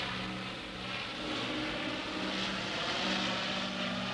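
RAF Beverly transport aircraft droning overhead in the Borneo jungle, a steady loud propeller engine roar that swells and fades slightly across the clip, heard alone.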